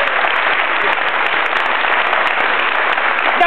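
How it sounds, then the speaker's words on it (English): Dense audience applause fills the room, loud and sustained throughout, a thick continuous wash of many hands clapping for a pair of comic performers on stage. "Give them a little round of applause."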